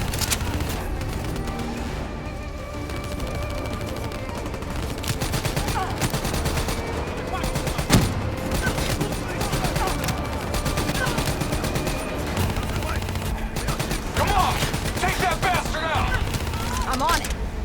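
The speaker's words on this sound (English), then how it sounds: "Hit them with the swarm launcher." Dense gunfire and explosions in a Call of Duty Black Ops 3 campaign firefight against hostiles in a building, with a swarm launcher in the mix, running loud and continuous throughout under battle voices.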